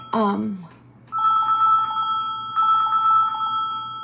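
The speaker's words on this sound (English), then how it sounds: "I know you guys can hear the ringing." A phone rings in two repeated electronic bursts, loud and near, after a short voice at the start.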